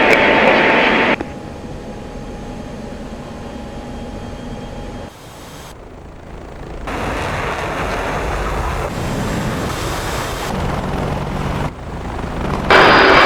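An F-16 jet in the DCS flight simulator roars with a steady, loud engine drone that shifts in tone partway through and carries on for about thirteen seconds, with no speech.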